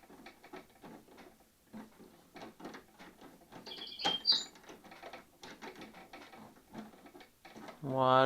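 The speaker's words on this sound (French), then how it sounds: "On visse de l'autre côté." Small screws are driven into the rear canopy of a Trex 500 model helicopter during assembly, making quick soft ticking clicks spread through the clip, with a brief sharper tap in the middle.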